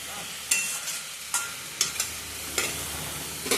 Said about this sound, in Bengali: শুকনো লঙ্কা কালো জিরা ফোড়নে দিচ্ছি, তেল একটু বেশি দিচ্ছি বন্ধুরা। ভাজা করবো